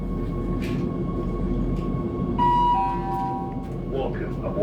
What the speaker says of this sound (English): train is moving now.